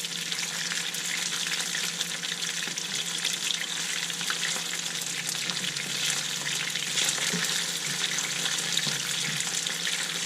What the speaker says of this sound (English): I'm going to go ahead and flip them one more time and make them just a little more crispy.